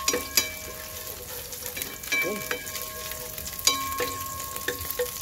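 Garlic sizzles in hot oil in a pan, a steady crackling fry broken by scraping clinks of a spatula stirring it, with a brief spoken word or two.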